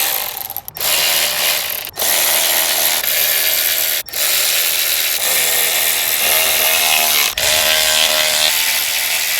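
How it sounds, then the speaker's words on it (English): Ratchet wrench clicking steadily while torquing the clutch pressure plate bolts on a BMW E46 M3 with an S54 engine and SMG gearbox; dense, continuous mechanical ticking with a few brief pauses, close and loud, no talking. "pressure plate bolts torqued to 25 foot-pounds"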